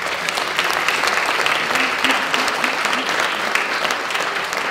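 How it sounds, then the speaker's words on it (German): A full audience at a local culture prize ceremony applauds warmly, a dense, sustained wash of clapping hands that stays loud and even from start to finish. "einen großen Applaus an euch."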